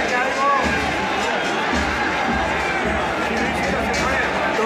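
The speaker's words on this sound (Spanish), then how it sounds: "El aplauso de todo el estadio." A football stadium crowd at an Argentine league match between Belgrano and Platense applauds, producing a dense, continuous roar of clapping and cheering that stays loud and even throughout, with broadcast commentary voices underneath.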